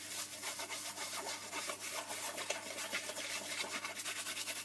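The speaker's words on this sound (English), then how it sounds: "I'm just rubbing off any of the excess" Hands rub excess gilding flake off a tacky glued surface, a close, steady, continuous dry rubbing and brushing texture with no pauses.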